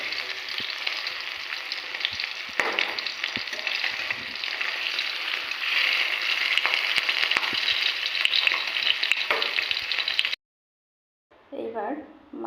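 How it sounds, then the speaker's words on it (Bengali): Hilsa fish frying in oil in a pan gives a steady, fairly loud crackling sizzle with scattered sharp pops, cutting out near the end before a brief stretch of low sound. "দেখো আমার ইলিশ মাছ প্রায় ভাজা হয়েই এসেছে"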